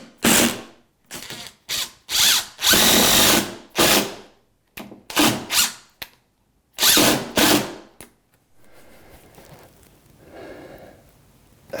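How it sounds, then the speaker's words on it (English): A power drill drives screws into a drywall corner: several loud, whirring bursts of varying length separated by short pauses, then a quieter stretch of faint handling noise. "I'm just gonna put a couple screws in here to stop that from moving around."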